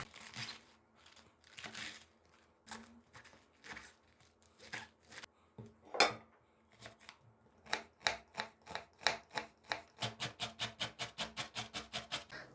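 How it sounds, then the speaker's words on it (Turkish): Iceberg lettuce being chopped and grated for a salad: crisp crunchy cuts come in irregular bursts, then speed into a fast, regular run of sharp chopping strokes near the end, close and fairly quiet, with no talking. "Ve bunları şimdi hemen doğrayıp rendeleyip hazır edeceğim."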